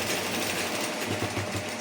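A sewing machine runs steadily while stitching a small fabric strip with little cuts made along it, a close, continuous whirring hum with no talk.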